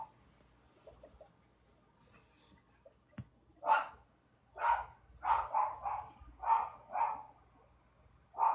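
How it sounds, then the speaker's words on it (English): A dog barks repeatedly in short, sharp bursts, about eight barks in a loose rhythm, moderately distant and fairly faint against a quiet background. "My dog is just gonna keep barking."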